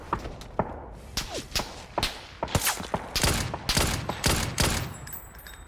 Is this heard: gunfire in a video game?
yes